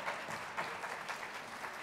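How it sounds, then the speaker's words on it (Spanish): Audience applause at an expo talk for Humberto de Vargas comes as a dense, continuous patter of many hands, even and steady throughout a short burst. "Así que el aplauso para Humberto de Vargas,"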